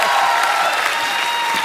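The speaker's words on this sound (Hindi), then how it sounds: "एक बार तालियां बनती हैं दोबारा" A studio audience on a Hindi comedy talk show claps together in a dense, sustained burst of applause. It stays full and loud for the whole short stretch.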